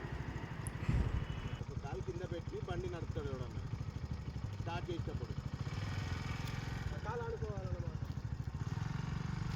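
A TVS scooter's small engine hums and putters steadily during driving practice, with voices talking over the continuous low drone.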